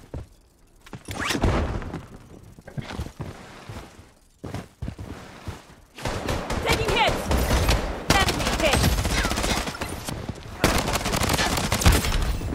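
Gunfire in the shooter game Blood Strike, with a P90 SMG in play: scattered bursts at first, then dense, sustained rapid automatic fire, loud and close, over a busy background.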